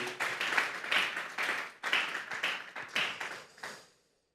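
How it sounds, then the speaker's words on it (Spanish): A church congregation claps hard together in praise during a Spanish-language sermon, a dense, rapid burst of many hands in close succession that swells and fades, ending in a sharp trailing decay. "Fuertes esas palmas para Dios."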